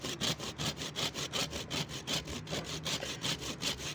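Hand saw cutting through a tree trunk during grafting, a steady rhythmic back-and-forth rasp of even strokes, close up and moderately loud with no voices.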